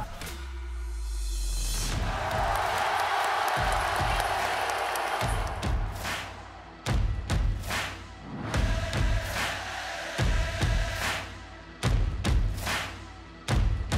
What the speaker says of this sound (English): I think any of it is atmosphere, whether it's cheering, whether it's booing, you know, it's still energy.